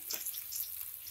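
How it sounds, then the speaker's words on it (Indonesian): Garlic fries in a pan for a spicy stir-fried wood ear mushroom dish, giving a steady bright hiss and sizzle, close and fairly loud, with no talk over it. "kita goreng bawangnya dulu"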